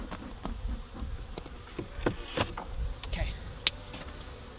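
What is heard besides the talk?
honey bees buzzing around an opened hive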